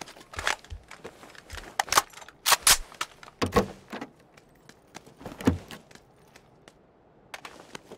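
SCAR-L assault rifle fire in the PUBG video game, sharp cracking shots in short bursts and single reports spread unevenly, loud and close, with quiet gaps between.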